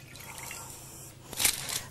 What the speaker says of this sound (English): Fill the tray with hot water.